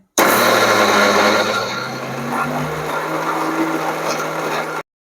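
A mixer grinder runs as a loud, continuous whirring grind through soaked mixed lentils (mung, masoor, khesari, pea) for a coarse paste, starting abruptly, easing slightly in pitch partway, then cutting off sharply.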